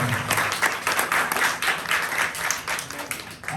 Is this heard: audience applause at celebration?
yes